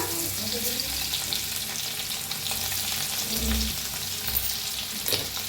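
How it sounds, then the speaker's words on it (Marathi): Garlic and cumin fry steadily in hot oil with a continuous bright sizzle, and a few soft stirring knocks come through near the pan; no one speaks. "लसूण बी चांगला भाजून घ्यायचा"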